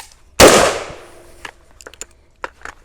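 A Palmetto State Armory AK-105 rifle fires one loud, sharp shot with a ringing decay, followed by quieter clicks and metallic handling rattles.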